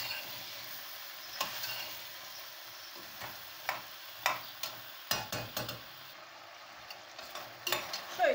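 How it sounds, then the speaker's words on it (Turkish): Peas sautéing in a pan: a steady soft sizzle of frying throughout, punctuated by irregular clicks and scrapes of a utensil stirring against the pan, close and fairly quiet. "bezelyelerimi koyuyorum. Biraz da böyle kavuracağım."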